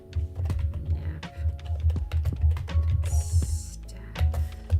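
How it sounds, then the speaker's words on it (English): Rapid, uneven clatter of keystrokes on a computer keyboard, close and fairly loud, continuing steadily throughout with brief pauses and a short electronic tone partway through. "What am I typing?"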